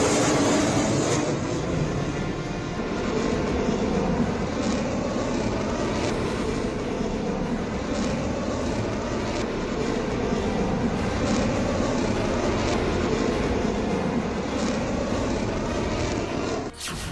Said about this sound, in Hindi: चौवालीस शक्तिशाली फाइटर जेट्स,